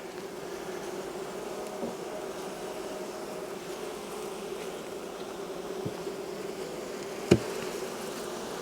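A soft, steady drone of many honey bees buzzing close by during a hive inspection, with a faint knock partway through; no talking.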